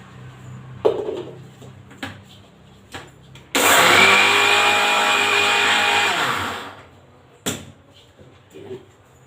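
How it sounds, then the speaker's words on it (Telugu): A mixer grinder grinds cooled black sesame seeds in one loud, steady burst of about three seconds, the motor whirring up and then winding down, with faint kitchen clatter before and after. "నువ్వులు బాగా చల్లారిపోయి ఇప్పుడు వీటిని మిక్సీ పడుతున్నాను నేనైతే"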